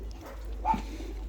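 A single soft bird coo rises briefly midway over a steady low rumble of background noise.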